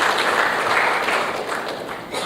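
Applause from the audience at an air cargo industry conference in India, a dense, steady patter of clapping that holds evenly throughout the brief moment.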